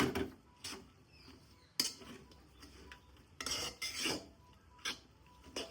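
Metal utensil scraping and clinking against a large pot while mixing shawarma filling, in irregular strokes, close and fairly quiet, with no talking.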